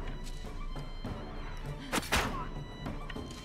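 A gunshot aimed at an enemy in the medieval tactics game Wartales lands as a dull, muffled thud about midway through, followed closely by a second impact over low background game ambience.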